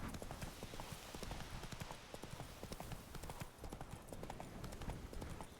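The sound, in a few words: horse Roach galloping in a video game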